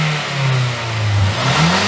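Mazdaspeed3 engine with an aftermarket exhaust and blow-off valve revving up close by, a loud throaty roar that rises and falls in pitch in a sustained run.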